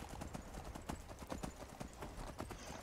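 Horse hooves in a video game clip-clop in a quick, steady rhythm, close and continuous throughout, like a mount trotting along.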